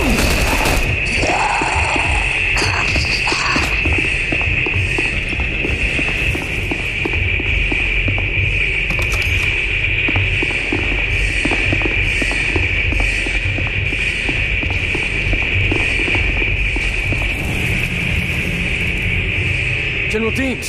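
Gunfire in The Bureau: XCOM Declassified crackles in rapid, dense volleys alongside impacts and a steady high whine, loud and continuous for twenty seconds amid chaotic battle noise.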